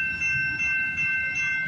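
A local freight train rolls past on the tracks toward a rail yard at night, a steady close rumble with rhythmic wheel and car noise throughout and a faint high squeal above.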